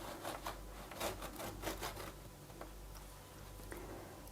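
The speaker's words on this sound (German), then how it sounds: "Die Streuseltaler einmal quer durchschneiden. Und es geht mit dem Sägemesser wieder am einfachsten." A serrated knife saws crosswise through streusel buns made from yeast dough, giving a series of short scratchy rasping strokes up close that fade into quieter scraping, with no talking.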